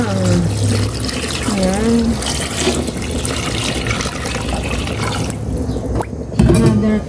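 Water is poured into a cooking pot for sinigang, a splashing fill under a person speaking, followed by a louder burst of pouring near the end.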